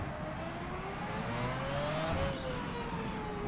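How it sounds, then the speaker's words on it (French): A Ferrari F2007 Formula One car with a 2.4-litre V8 in the rFactor 2 racing game whines steadily at high revs, its pitch climbing through a gear and then easing, continuous and fairly close. "c'est bizarre ce bruit de moteur, mais c'est plus ou moins le bruit que faisait les derniers V8 qui étaient de 2 litres 4 de cylindrée"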